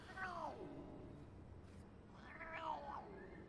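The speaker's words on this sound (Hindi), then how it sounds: "ओह, बिल्ली है।" A cat meows twice, two faint, drawn-out calls a couple of seconds apart against quiet background noise.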